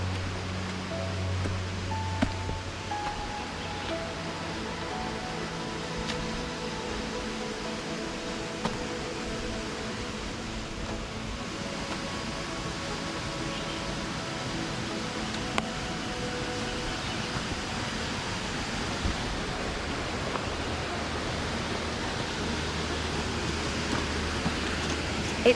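Babbling water near Pa La U Waterfall in Kaeng Krachan National Park, Thailand, heard as a steady, continuous broadband rush with no voices, holding at an even moderate level throughout.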